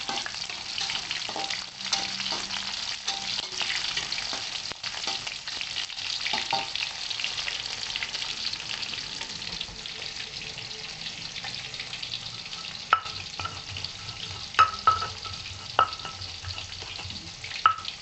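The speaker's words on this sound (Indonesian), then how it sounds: "Bawang merahnya kita goreng dulu sobat-sobat ya" Shallots fry in hot oil in a pan, giving a steady broad sizzle throughout, with occasional stirring scrapes and a few sharp clicks near the end.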